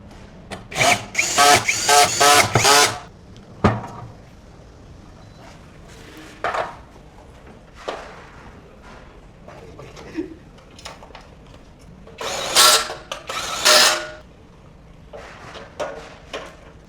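A power tool such as a drill drives fasteners to mount wheels on the metal base of a 16kWh battery cabinet, in several loud whirring bursts separated by quiet gaps and small clicks of handled parts.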